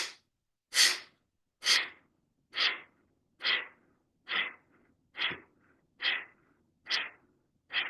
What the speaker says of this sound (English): take a cleansing breath here. Inhale. And exhale.